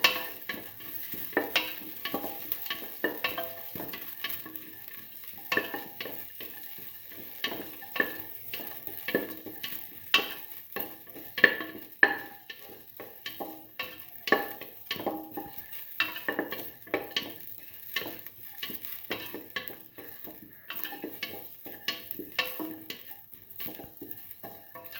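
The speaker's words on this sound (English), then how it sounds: "Saute until the onions lose their pinkish color." Onions sauteing in a pan, with steady clicks and scrapes of a utensil stirring against the metal over a faint, continuous sizzle, close and fairly quiet with no talk.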